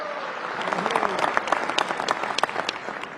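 An audience claps at a commemorative event, the applause dense and sustained with sharp individual claps standing out, somewhat distant, and a voice briefly heard beneath.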